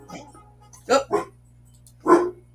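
A pet dog indoors barks in the morning with three short, sharp barks: two close together, then one more after a pause, fairly near and over a low household hum.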